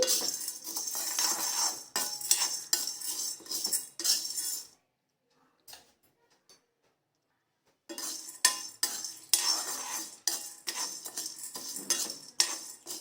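Chana dal dry-roasting in a pan on a low flame, stirred with a metal spoon in bursts of rattling scrapes and clinks, a few seconds of near silence in the middle, then stirring resumes.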